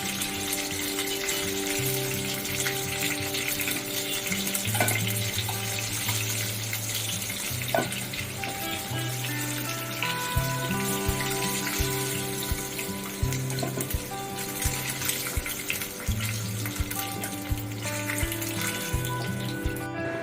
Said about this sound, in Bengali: মাছগুলো লাল লাল করে ভেজে নিয়েছি, এবারে তুলে নেব।